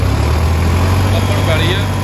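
A New Holland 3630 tractor engine running at 2000 RPM: a loud, steady, close drone with a constant low hum, and someone speaks over it.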